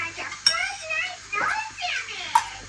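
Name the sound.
dishes and pots clinking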